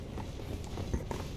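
Horse hooves clop at a quick, steady run in the video game Elden Ring, faint and close under a low game background, with no voices.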